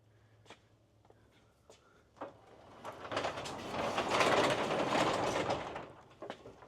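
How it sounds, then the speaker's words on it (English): A garage door pulled down by its rope rolls shut with a swelling rumble and rattle that peaks midway and then fades. A few light clicks and knocks come before and after. "Comes down with a tug of the rope. And it closes perfectly."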